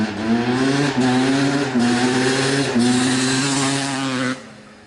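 A 1989 Honda CR250R two-stroke motocross bike with stock pipe and silencer runs loud and close with a steady buzzing drone, blipping slightly a few times before the engine note drops away at the end.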